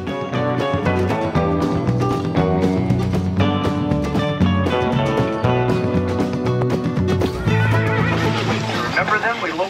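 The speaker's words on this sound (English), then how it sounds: "Just look at those big horses." Big carriage horses on a Mackinac Island carriage tour whinny and neigh close by, their calls rising over a busy mix of voices and background sound, with a few hoof clops underneath.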